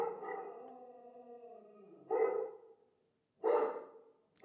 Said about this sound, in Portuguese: Tá vendo esse cachorro aqui?